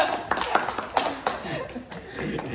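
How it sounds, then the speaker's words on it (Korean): A small group claps in a brief, loose burst of applause, with some chatter and laughter mixed in. "오 박수!"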